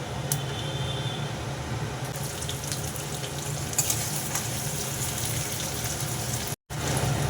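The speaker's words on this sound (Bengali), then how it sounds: "তেল গরম হয়ে গেছে, দিয়ে দিলাম গোটা জিরে আর গরম মশলা ফোড়ন।" Whole cumin and garam masala temper in hot oil, crackling in a continuous close sizzle over a low steady hum, with a short dropout near the end.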